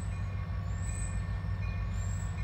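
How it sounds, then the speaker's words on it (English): A train passes close by at a railroad crossing, with a continuous loud rumble and rolling rail noise and no break. "This train's going all the way to Plum Run, Hanson Quarry, to Logan Frost."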